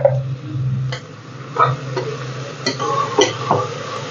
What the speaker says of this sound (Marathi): आता आपलं तेल तापलंय कांदा टाकते मी कांदा आता थोडा करपत आला आहे